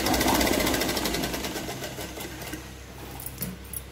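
A sewing machine stitches a tack across the elastic of boxer shorts, a close, rapid rattling burst that slows and fades within a few seconds.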